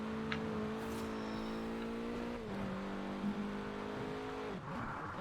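A car engine drones steadily at a constant pitch in the Forza racing game, on dirt tires, with a couple of brief shifts in engine note and no speech.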